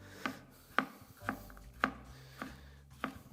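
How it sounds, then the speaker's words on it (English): A chef's knife with a toothy edge chops through a green-fleshed vegetable with tough skin on a board, giving six crisp, evenly spaced cuts in a steady rhythm. "I'm really not noticing that over travel as I'm chopping through this"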